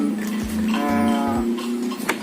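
Cattle low with several deep, drawn-out moos, close by and fairly loud, in a cattle pen in Sekotong, Lombok, where artificial insemination is being carried out; a faint metallic clank follows.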